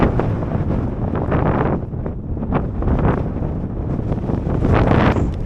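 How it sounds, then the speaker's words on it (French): Strong headwind on the Bolivian salt flats roars and buffets the microphone loudly and continuously throughout, with gusty surges and no talk. "Avec un vent de face."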